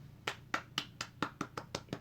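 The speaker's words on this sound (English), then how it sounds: "Golf clap for the bum." Slow, sarcastic golf clap at a basketball commentary: about nine soft, evenly spaced hand claps, close and fairly quiet, with no talk over them.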